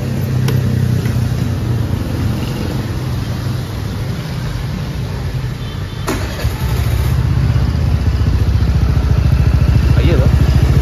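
A Suzuki Burgman Street 125 scooter fitted with a VMAX power pipe exhaust runs steadily at idle, a close, loud, continuous engine drone with a slight swell near the end.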